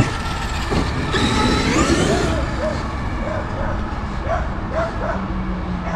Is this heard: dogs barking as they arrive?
yes